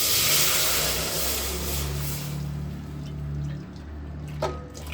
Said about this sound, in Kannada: ಒಗ್ಗರಣೆ ಹಾಕಿದ್ಮೇಲೆ ತೋರಿಸಿರೋಂಥ ನೀರನ್ನ ಹಾಕ್ಕೊಳ್ತಾ ಇದಕ್ಕೆ